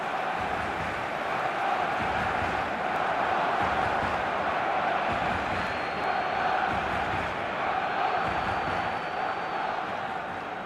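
A stadium crowd in the football video game eFootball 2025 roars continuously at a steady, fairly faint level, with a broad sustained cheer that never breaks off.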